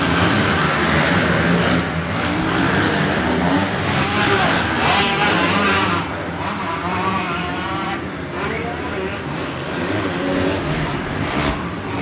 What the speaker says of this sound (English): You can barely hear my voice over the loud of these engines coming through.